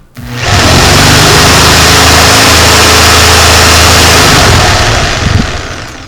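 A counterfeit Bosch-branded jigsaw running hard and shaking, a loud continuous motor buzz with rattling vibration that starts abruptly and runs steadily before tapering off near the end.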